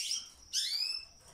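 Canaries kept at home give two quick, high chirping calls close by. The second call is brighter and longer, over a faint room hum, with no speech.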